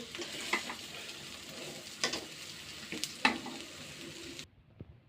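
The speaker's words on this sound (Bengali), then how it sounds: "আমার চালটা আস্তে আস্তে ভেজে নিচ্ছি" Chinigura rice being dry-fried in a pan for a lightly spiced chicken-and-lentil khichuri, a spatula scraping through it in three separate stirs over a low background hiss, then a sudden drop to near silence.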